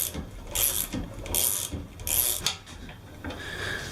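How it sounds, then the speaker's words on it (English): A ratchet cranks a socket on a part clamped in a vise during a 2014 Ford Focus 2.0 water pump replacement: several short bursts of clicking pawl strokes, close and fairly quiet, with brief pauses between them. "get the ratchet switch around here, just crank this in"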